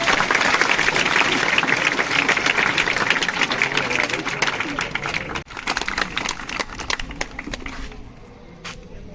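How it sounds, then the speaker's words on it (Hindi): Schoolchildren at a gurukul school give loud, dense applause to a visiting snake-catching guest. The clapping is sustained and close, then thins out toward the end. "सर के लिए एक बार फिर से जोरदार तालियां।"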